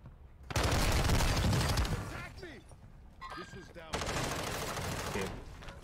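Bursts of AUG submachine gun fire in Warzone 2 arrive as two dense, loud rapid-fire streams, separated by a short quieter gap with voice-like sounds.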